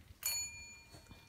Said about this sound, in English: Okay, ring the bell.